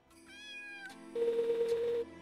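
A cat meows in the video game Reach, first a tonal, drawn-out mew and then a louder, longer meow with a steady pitch, clear and close against quiet game ambience.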